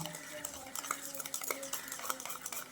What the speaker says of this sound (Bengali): দুধ চিনি আর ঘিটা একসঙ্গে করে একটা হ্যান্ড বিটারের সাহায্যে ভালো করে মিক্স করে নিচ্ছি